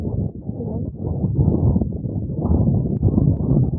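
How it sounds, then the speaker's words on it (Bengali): Strong wind buffets the microphone on the Clifton Suspension Bridge in Bristol, a loud continuous low rumble that swells and gusts throughout. "এত বাতাস, আমার মানে বাতাস উড়াই নিয়ে যাচ্ছে আমাদেরকে।"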